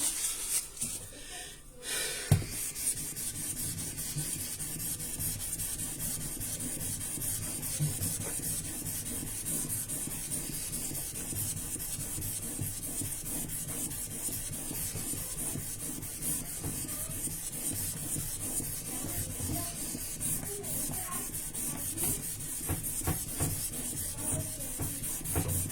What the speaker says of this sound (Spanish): Y comenzamos con el pulido del grano 1200.